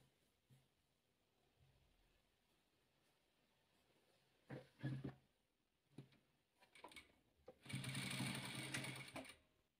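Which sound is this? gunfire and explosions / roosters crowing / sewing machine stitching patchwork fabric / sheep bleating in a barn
sewing machine stitching patchwork fabric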